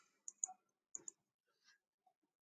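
Computer keyboard keys pressed in a quiet room, a few sharp close clicks spaced apart, ending with a light tap.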